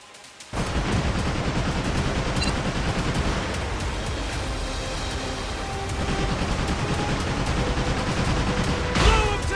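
Pirate ship cannons fire in the Like a Dragon: Pirate Yakuza in Hawaii video game, a dense, continuous barrage of booming blasts and crackling gunfire that starts abruptly and rolls on loudly, swelling again near the end.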